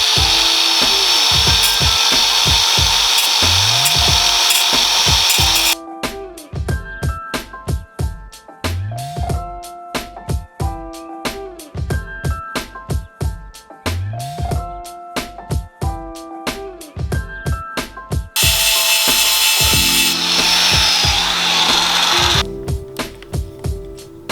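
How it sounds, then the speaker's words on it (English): A grinder working on the tip of a pin in a stunt bike chain, a harsh, loud, close grinding whine in bursts with short gaps and repeated rasping strokes against the metal. "we're gonna grind off this tip, and then we should be able to press it out with the chain tool."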